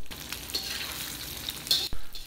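Shredded tofu skin sizzles and crackles as it fries in hot oil in a wok, with a steady hiss, bursts of spattering, and a louder scrape or toss near the end.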